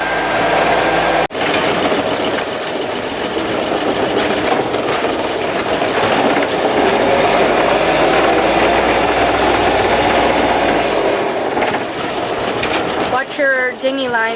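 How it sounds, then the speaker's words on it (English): A sailboat's inboard engine runs steadily in reverse gear to blow seaweed off the propeller, a loud continuous mechanical drone with rattling throughout, ending in a brief squeaky whine. "put my engine in reverse, try to blow all that seaweed off, and then hopefully it goes back into a forward drive gear"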